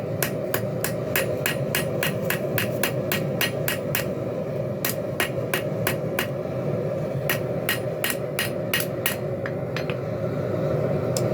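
A hammer strikes hot steel on an anvil while roughing in the shape of a spear tip belt knife, sharp ringing blows in rapid steady runs with brief pauses over a constant forge roar.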